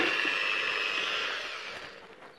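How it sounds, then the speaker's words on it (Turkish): A power drill bores holes into a hydroponic growing channel, giving a steady, close whirring drone that fades slightly toward the end, with no talking. "Şimdi delme işlemine geçiyoruz."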